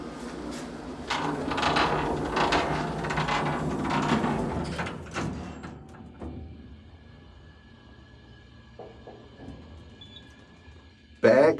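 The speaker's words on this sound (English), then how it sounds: "Bagby elevator." A Bagby hydraulic elevator at a beachside resort in Panama City Beach, Florida: a rumbling, clattery mechanical noise for several seconds, then a quieter steady hum with a faint whine, ending in a sudden close thump.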